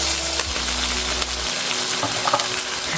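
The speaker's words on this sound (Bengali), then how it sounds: "আমি এখন স্পাইস একসঙ্গে ভালোভাবে কষিয়ে নিব" Turmeric, coriander and red chili powder with salt and a little water, sautéing together in a pan, giving a close, steady sizzle with stirring scrapes and a low hum in the background.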